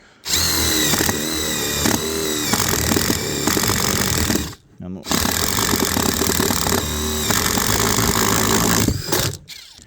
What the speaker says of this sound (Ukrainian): зараз пробую свердлити, чи воно просвердлить, чи не просвердлить